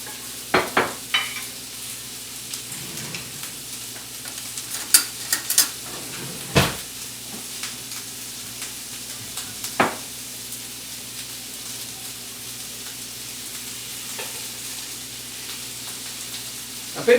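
Steak searing in a pan with beef tallow and a touch of ghee, a steady crackling sizzle throughout with occasional utensil clinks and scrapes, close and moderately loud.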